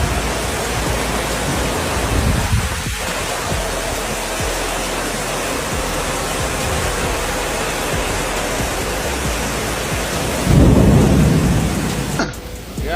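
A thunderstorm pours heavy rain over Jakarta, a dense loud roar running throughout. Low rumbles of thunder sound near the start, and a louder burst comes near the end.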